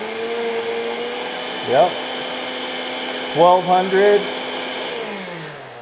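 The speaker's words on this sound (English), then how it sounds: "Let's see if we can run the blender while that is happening. So ice crush." A blender crushing ice while running off a Bluetti AC200P power station, a steady loud motor whine that rises and falls as the load changes, with brief speech over it.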